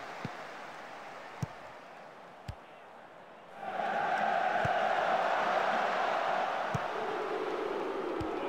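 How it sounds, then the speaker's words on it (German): A stadium crowd in the Football Manager 2019 video game rises into a loud sustained roar of whistling and jeering at booked players, following a quieter crowd murmur with a few sharp clicks. "Es ist aber schön, wie das Publikum immer die auspfeift, die die gelben Karten haben."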